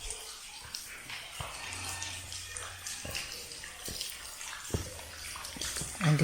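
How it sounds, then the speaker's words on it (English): Clear spring water running inside Bukilat Cave on the Camotes Islands, a steady close splashing trickle echoing faintly in the rocky chamber, with a few sharper drips and knocks over it. "It's a clear spring water."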